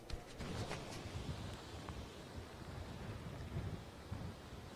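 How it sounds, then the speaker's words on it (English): Strong hurricane wind gusts roar and buffet a microphone in Sarasota County, a steady, broad rushing noise that surges in waves, with no talking. "right now we're having those gusts right now. It's not sustained, but you definitely feel it."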